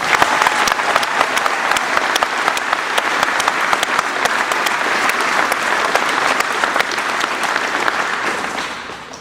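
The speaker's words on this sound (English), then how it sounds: "That's something that you guys should clap amongst yourselves." Sustained, loud clapping from a celebrating crowd honours the Rio baseball team, Division 4 state champions, a dense even roar of hands that holds steady for several seconds before fading at the end.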